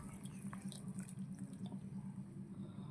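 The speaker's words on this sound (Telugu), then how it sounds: "ఇప్పుడు ఇందులో మనం వేసేసుకున్నాం కదా వాటర్ పోసేసుకున్నాం" Water runs steadily from a tap into a cooking pot, a continuous splashing stream with a low resonant hum beneath it.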